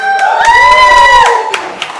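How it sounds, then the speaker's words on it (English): Crowd at a live wrestling championship match cheering and starting to clap, a loud sustained roar with whoops and shouts rising over about a second before thinning out into scattered claps. "The crowd beginning to start up their clapping now."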